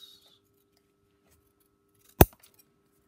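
One quick, crisp snip of scissors cutting across paper for a craft journal, a single sharp cut in an otherwise quiet room.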